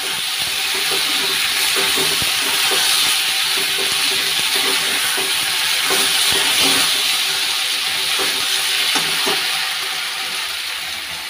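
Onions frying with pasta in a pan: a steady, loud, broad hiss of sizzling oil held close throughout, with faint scattered pops and clicks underneath and no talking.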